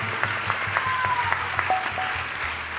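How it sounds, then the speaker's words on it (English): Continuous applause from a gathered audience at a devotional retreat, filling the whole stretch at an even level over a low hum and faint tones. "Let's have a round of applause for this beautiful team"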